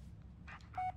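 Touch-tone telephone dialing beeps in the Blair Witch video game, a brief tone at the end of a quiet stretch, preceded by a couple of soft clicks over a low background hum.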